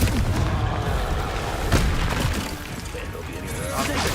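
Confringo blasting spells and explosions during combat in the Hogwarts Legacy video game, a dense run of loud booms and bursts with game sound effects layered over one another.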